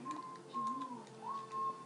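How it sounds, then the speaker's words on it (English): Someone whistles a wavering, thin tune in the background, with soft sliding notes over quiet room ambience, during Tomb Raider gameplay. "My dad's whistling in the background."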